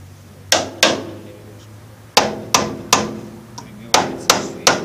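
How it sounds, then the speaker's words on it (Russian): Nails driven through a wooden board onto a chiller: sharp, loud hammer blows, close by, landing singly and in pairs with short pauses between groups. "Деревяшку к шиллеру прибиваем на гвозди."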